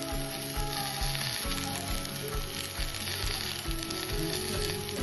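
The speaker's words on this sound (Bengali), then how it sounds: "এখন কড়াইতে তেল দিয়ে সিদ্ধ করা ফুলকপি আলুগুলো এতে দিয়ে দেব" Boiled cauliflower and potatoes fry in oil in a wok with a continuous bright sizzle, close and steady, joined by low clatters and knocks from stirring.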